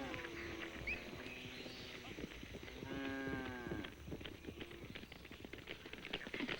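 Cattle moo on a farm among a mixed herd, with a long low bovine call and a second drawn-out moo, set against a steady background hum while a narrator speaks over it.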